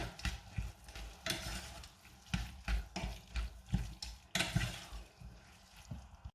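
A spoon stirs tomato sauce with a little added tomato purée in a pan for moussaka. Quiet, rhythmic scraping and sloshing strokes repeat steadily and are heard alone.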